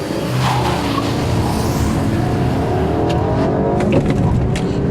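A 2014 Volkswagen CC R-Line with a turbocharged engine launches from a standing start at around 3,000 RPM on a racetrack, a loud, steady engine roar with tire noise that holds close and continuous throughout.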